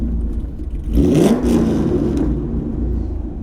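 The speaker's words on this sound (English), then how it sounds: "Now rev it." A modified car with Valvetronic exhaust revs up loudly at close range, its engine climbing to a roar and then settling back into a rough, rattly idle.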